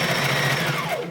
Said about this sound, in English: it's a long zigzag stitch on my sewing machine is what I like to do.